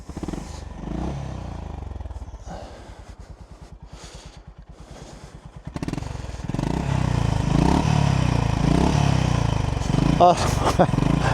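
A Honda GB350S 348cc air-cooled single-cylinder motorcycle engine idles with a steady, rapid putt-putt pulse, then revs up and runs louder and rougher toward the end.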